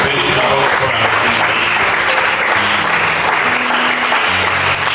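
A church congregation bursts into sustained, loud applause after a Bible reading, dense clapping that fills the whole stretch without pause.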